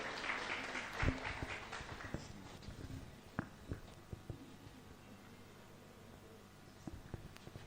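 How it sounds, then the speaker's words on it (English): Audience applause breaks out at a documentary screening on journalists' trauma and mental health, a burst of claps that thins quickly into scattered, fading handclaps over a quiet room. "Round of applause, ladies and gentlemen."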